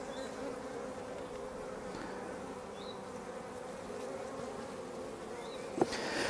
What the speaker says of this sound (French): Les abeilles dessus sont calmes, ça tient bien